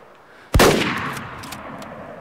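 A single loud rifle shot cracks close by while hunting in Way of the Hunter, followed by a long rolling echo that fades slowly over the next second and a half.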